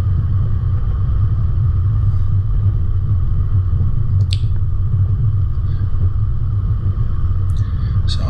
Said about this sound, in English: just good steady throttle control here to keep the vehicle moving and the wheels not spinning